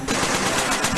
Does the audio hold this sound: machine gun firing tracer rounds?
yes